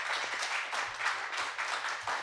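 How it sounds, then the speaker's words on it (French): A literary cabaret audience applauds as a judge comes up, with steady, fairly faint clapping filling the whole stretch over a low background hum. "Voici, on peut l'applaudir,"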